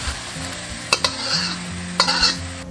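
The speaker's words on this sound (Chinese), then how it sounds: "直接下入五花肉，煸出油脂。" Fatty pork belly, about 70 percent fat, sizzles and crackles in oil in a wok, with steady frying hiss and a couple of sharp clanks of a spatula stirring against the pan.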